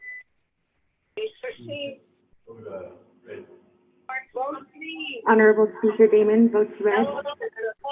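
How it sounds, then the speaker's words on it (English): A telephone interrupts a Navajo Nation Council committee meeting with a brief beep at the start, followed by a council member speaking and other voices over a line-like, filtered sound. "Staff, were you able to mute that phone?"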